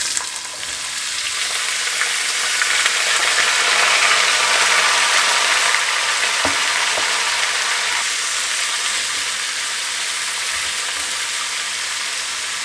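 Chinese potatoes (koorka) fry in hot oil with curry leaves and two dried red chillies, making a loud, steady, close-up sizzle that holds evenly throughout with no talking.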